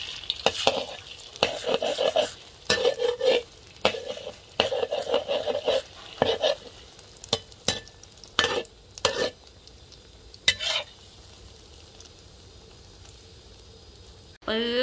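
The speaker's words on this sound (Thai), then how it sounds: "แล้วเราจะไปเจียวไข่ร้อน" Eggs for a Thai omelette being beaten and stirred before frying in hot oil, heard as clustered scraping taps and faint sizzling, fairly close, with no talking.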